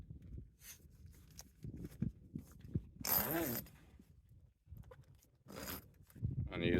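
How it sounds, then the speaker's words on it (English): Zipper being pulled along the side of a truck bed tent, a few quick rasping zips among soft fabric rustles and handling noises, close by. "There's a zipper on each side."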